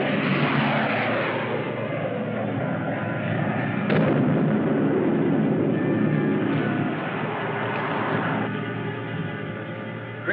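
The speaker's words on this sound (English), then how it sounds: "Great shooting, Rocky." Gunfire and explosions from a 1954 space-ranger film battle, with weapons firing at a rocket ship: a dense, sustained roar of blasts and shooting with sharp bursts near 4 and 8 seconds, loud and continuous throughout, no voices.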